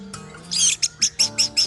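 Orange-headed thrush (anis merah) singing: a brief burst of bright, high chirping notes, then a rapid series of about four short repeated whistles close by, alone and clear.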